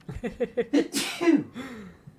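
A single sneeze, with a few quick breaths drawing in beforehand and a brief exhale afterward, close to the microphone.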